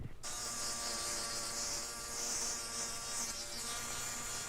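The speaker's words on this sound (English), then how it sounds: "Electric razors buzzing and humming." An electric razor buzzing and humming in a city home during the morning rush, a steady close high-pitched motor buzz that switches on abruptly and holds evenly for several seconds.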